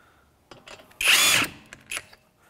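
A power tool with a 19mm socket runs a single short burst to loosely seat lug nuts on a 2011-2015 Chevrolet Cruze wheel, with a few light clicks around it and no talk.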